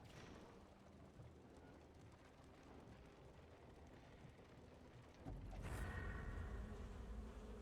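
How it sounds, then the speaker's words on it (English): Bees buzzing and attacking in the video game Darkest Dungeon 2, a faint continuous insect drone with mechanical creaks that thickens into a louder, denser swarm near the end. "So I got attacked by bees again."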